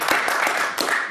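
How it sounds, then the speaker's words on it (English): A short burst of audience applause greets a guest speaker at a college gathering, dense and steady throughout with a few sharper claps standing out. "nice round of applause"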